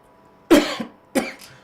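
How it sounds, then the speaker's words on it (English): Two sharp, close coughs about half a second apart, each with a short rasping tail, in an otherwise quiet space. "Excuse me, I got a cough."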